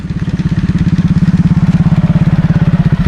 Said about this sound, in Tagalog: Nak, may motor, nak.